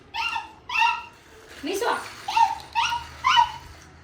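A human voice imitates a dog with a series of high, whiny yips and whimpers, about seven short bursts in an uneven rhythm, close and fairly loud over faint background noise.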